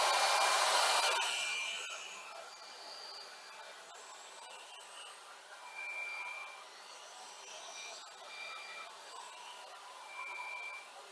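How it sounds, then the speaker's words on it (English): A hair dryer heating peel-and-stick backsplash tile roars loudly at first, then drops to a lower, steady whirring hum with faint high tones drifting over it. "I'm going to take the blow dryer and just heat this up"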